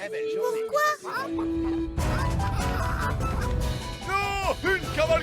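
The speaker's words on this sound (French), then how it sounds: "Une cavalcade de poules!" A flock of cartoon chickens stampedes toward a fairy village, clucking and squawking in a noisy rush over crashing, frantic animated sounds and music.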